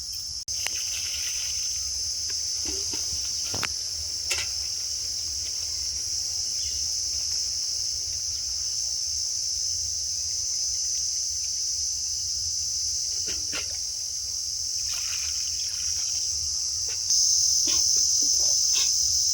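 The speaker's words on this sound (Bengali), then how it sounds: "ঝিঝি পোকার চিচি আওয়াজ শোনা যাচ্ছে।" Crickets trill at dusk in a dense high-pitched chorus, steady and loud, with a few scattered soft knocks and distant bird notes beneath.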